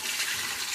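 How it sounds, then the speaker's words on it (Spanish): Water poured from a container into a pot for fish soup with coconut milk, a brief, soft splashing stream of liquid heard alone for under a second. "Y ahora le vamos a poner el agua."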